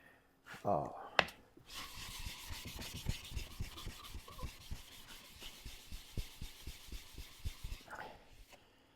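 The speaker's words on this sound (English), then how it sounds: "I got a chisel I'll sharpen" A steel chisel is sharpened on a sharpening station, with steady, rhythmic rasping strokes repeating close by for several seconds after a couple of sharp knocks at the start.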